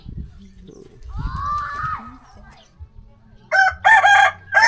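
Chickens and a rooster on a rural Thai smallholding: one long crow rises and falls, then several loud, close squawks and clucks follow, with low background noise and no talk.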